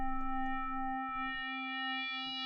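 BLUE-II FM synthesizer patch run through pre-distortion, sounding as a steady stack of sustained harmonic tones with brief buzzy, rhythmic transients early on, fading to a clean held drone.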